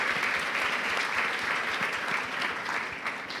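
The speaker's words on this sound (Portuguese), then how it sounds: "Uma salva de palmas para Ruth de Souza." Audience applause at a book fair talk in Rio, a dense steady clapping from a sizable crowd filling the whole moment at even loudness, fading slightly at the end.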